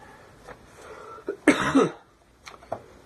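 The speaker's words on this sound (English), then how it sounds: "Sorry for coughing. I can't help it." A person coughs in a harsh burst, preceded and followed by a few smaller coughs and throat-clearing sounds, close and fairly loud.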